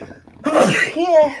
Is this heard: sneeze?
yes